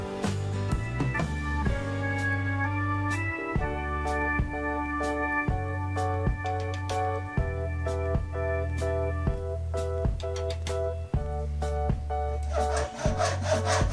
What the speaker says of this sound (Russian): Отмеряем 2 рейки по 40 сантиметров.